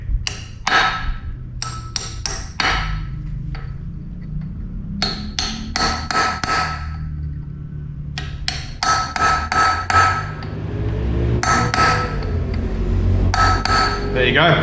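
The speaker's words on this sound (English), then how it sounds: "And then you just hammer it in." A hammer drives a tapered dowel into an engine block during a drift car motor assembly, with a run of sharp, loud metallic taps in quick irregular bursts. Some low talk sits underneath.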